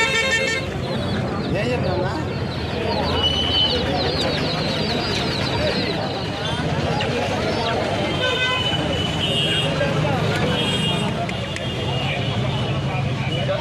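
Big parrot-type roosters at a country chicken market in Anantapur crow and cluck amid a busy crowd, with people talking throughout and occasional vehicle horns in the background.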